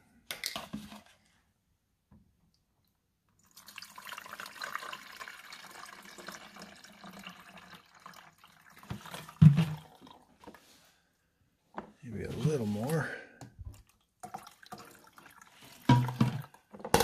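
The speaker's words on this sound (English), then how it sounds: "So we're going to dump the vinegar in." Vinegar is poured into the reservoir of a Hamilton Beach Easy Access 46300 coffee maker, with intermittent liquid splashing and gurgling pours broken by quiet gaps, close up with no talking.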